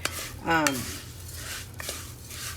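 Jasmine rice toasts in a hot pan while being tossed with a utensil, giving a soft dry sizzle with a few scraping stirs and light clinks, fairly close.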